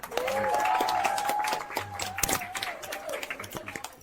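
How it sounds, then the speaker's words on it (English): An audience applauds with a dense, scattered clatter of claps that starts loud, then thins into sparse, uneven claps over a few seconds. A voice and a tonal sound run on top of the clapping. "Round of applause."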